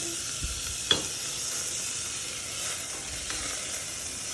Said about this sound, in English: We probably need to get that stirring here right away.